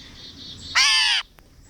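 A raven gives a single loud, harsh caw lasting about half a second, close and alone against quiet background, with faint chirps before it and a brief click after.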